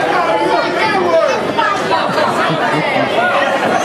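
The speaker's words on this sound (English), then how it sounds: "You can hear the crowd." Wrestling event crowd chattering at an independent show, a dense close murmur of many overlapping voices with no single speaker standing out, steady and fairly loud throughout.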